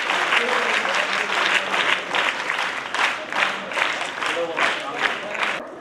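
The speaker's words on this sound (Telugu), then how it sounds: "ఒకసారి గట్టిగా చప్పట్లు అందరూ" Crowd at a rangoli competition prize ceremony in Bodhan clapping for the first-prize winner, a steady wash of applause under an announcer's voice.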